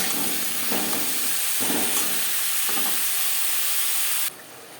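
Spinach curry with pumpkin sizzles in a pan, a steady broadband frying hiss with a few soft stirring scrapes, then drops to a quieter simmer near the end.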